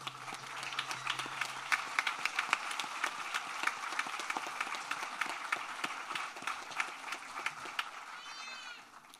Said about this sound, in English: let's also give them a nice round of applause